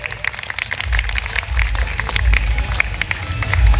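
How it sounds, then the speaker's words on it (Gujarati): Audience clapping at a live Gujarati folk music gathering (lok dayro) honours a temple donor, a steady crowd applause that swells and holds, with loud low rumble and no clear talk. "તાળીઓથી આપણે વધાવી લઈએ"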